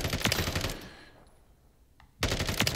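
Stock FSS Hurricane submachine gun in a shooting video game, fired in loud rapid full-auto bursts at close range with a brief pause between two strings of shots.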